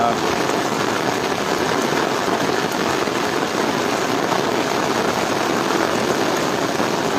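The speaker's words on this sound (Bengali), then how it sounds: "বৃষ্টি অনেক বৃষ্টি হচ্ছে" Heavy rain pours down in a dense, unbroken roar, loud and close, with no pauses across the whole stretch, during flooding in Noakhali, Bangladesh.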